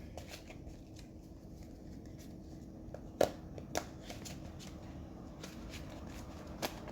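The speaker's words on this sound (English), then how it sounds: "So, just a few more shuffles." A deck of divination cards being shuffled by hand gives soft, quiet riffling and a few sharper card snaps in a hushed room.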